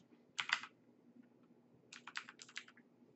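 Keys on a computer keyboard are tapped in two short bursts of quick, close, quiet clicks separated by a pause.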